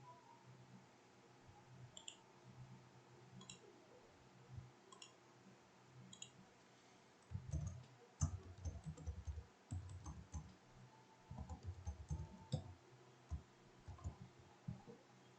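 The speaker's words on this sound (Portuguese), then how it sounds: "o teclado do notebook está me sacaneando" A laptop keyboard is typed on and clicked in quiet, scattered bursts of close key taps, sparse at first and then denser, with short pauses between runs.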